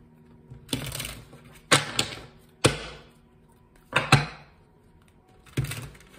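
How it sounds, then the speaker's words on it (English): Tarot cards shuffled by hand in short bursts, five or six crisp riffling flurries separated by brief pauses, close and fairly loud with no talking. "Let's do a little more shuffling first."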